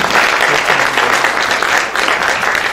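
An audience at a celebration of Professor Puran Singh's poetry gives a round of applause, dense steady clapping that fills the room at an even level from start to finish.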